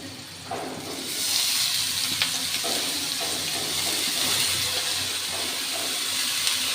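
Cabbage hits a pan of frying onions and sets off a loud, rushing sizzle close up that swells within the first second and then holds steady and bright, with no voices.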